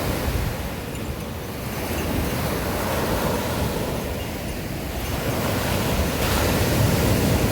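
Ocean surf rolling in at Marina Beach in Chennai, a steady broadband wash of breaking waves with some wind noise over the microphone, continuous and fairly loud throughout.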